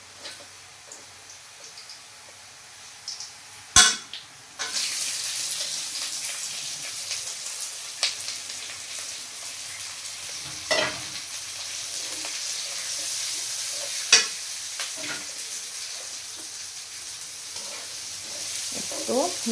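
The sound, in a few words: lentils (dal) added to fried onions, sizzling and stirred in pan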